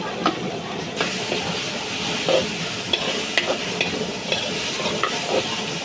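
Chicken and garlic sizzle steadily in a hot pan, a dense continuous frying hiss with occasional stirring scrapes and pops, close and without talk.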